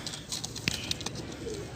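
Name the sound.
pigeon cooing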